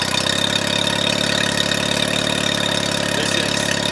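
A Mercury 9.9 four-stroke outboard motor idles steadily in neutral and loudly nearby, a constant dense rumble with a faint fast knock and no change in pitch.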